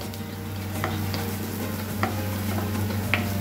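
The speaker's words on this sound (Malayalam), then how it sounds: "അതുകൊണ്ടാണ് ഞാൻ ഇഞ്ചി മൂപ്പിച്ചിടുന്നത്" Ginger fries in a pan for a fruit curry as a steady low sizzle, with a few scattered scraping stirs and light taps of a utensil against the pan over a constant hum.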